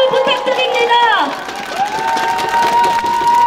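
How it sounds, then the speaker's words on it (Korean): At a People Power Party presidential campaign rally in Yeoju, a large crowd claps and cheers steadily while a voice speaks and tonal chanting or music rises over the noise. "네, 큰 박수 부탁드립니다."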